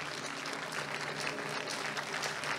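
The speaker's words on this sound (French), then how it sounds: "Merci d'applaudir ici. Cœur credo, s'il vous plaît, avec un maximum d'applaudissements." Applause for a choir performing at a stage show in Oyo, Congo, heard as steady, dense clapping from an audience throughout, fairly faint and distant, with no one talking over it.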